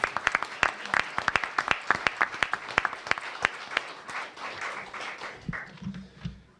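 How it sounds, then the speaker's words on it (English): An audience at a DC statehood constitutional convention gives a round of applause, a burst of scattered hand claps from a modest crowd that thins and fades out over several seconds. "Give him a big round of applause."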